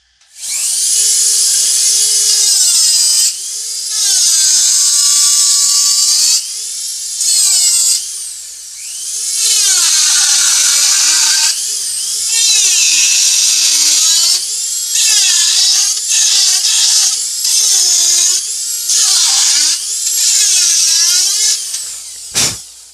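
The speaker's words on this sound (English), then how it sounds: "I'm going to turn my Dremel up." A Dremel rotary tool carving an undercut into wood, loud high-pitched whining bursts that rise and fall in pitch as the bit engages and eases off, with brief pauses between passes and no talking.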